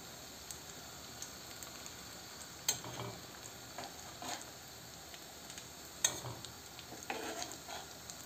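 Egg bulgur kebab frying in a pan, a steady close sizzle of hot oil with occasional louder spatters and soft clicks of a utensil against the pan.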